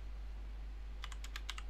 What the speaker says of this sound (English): I'm going to type the command NMAP minus A